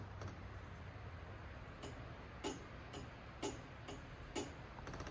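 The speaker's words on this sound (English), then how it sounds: "that noise is the line lock activating" Faint mechanical clicks tick at irregular intervals over a steady low hum, a line lock solenoid engaging several times, fairly quiet and distant.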